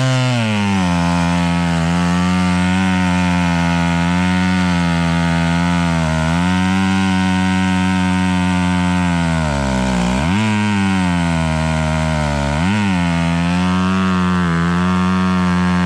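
A Stihl 031 chainsaw fitted with a double stacked carburetor runs loud and close, holding a steady high-revving drone with two brief dips in pitch as the throttle drops and recovers.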